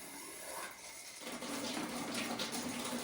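Water rushing into and flushing through the cooling system of a 1971 Dodge Super Bee, a steady hiss that swells louder partway through and keeps running close by.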